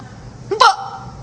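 A single forceful hiccup, a brief intake of breath followed by a loud, close vocal jolt, with quiet around it.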